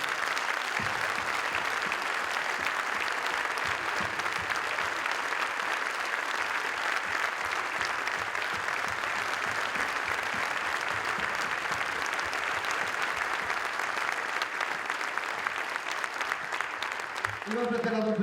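Concert audience applause for Martín, given at a gift presentation by the mayor: a long, full, continuous roar of many hands clapping that holds steady and loud for the whole stretch, with faint voices underneath near the end.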